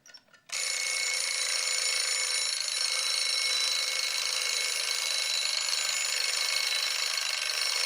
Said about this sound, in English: The alarm, is it working?